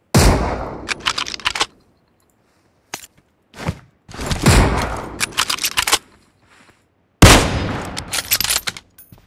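Sniper and automatic gunfire from a shooting video game, loud bursts of shots in several clusters separated by short silent gaps.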